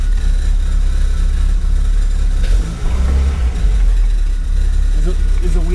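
A Toyota Impulse with a 4AG engine and a 6-speed adapter idles and runs steadily in first gear, a loud, continuous low engine drone close by with no break.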